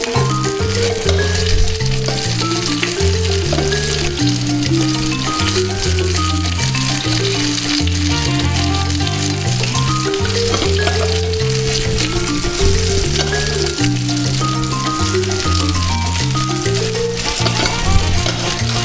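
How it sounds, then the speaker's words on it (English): Steady, close sizzling of chicken frying in a hot pan, continuous and fairly loud, with a low rhythmic musical backing running underneath. "Chicken is frying up nicely."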